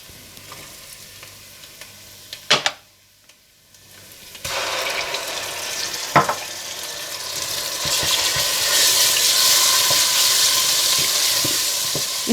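Onions, green chillies, ginger and garlic sizzle in a pan for darbari dal, a few sharp clicks and a brief lull before the frying swells louder and steadier, with no one talking.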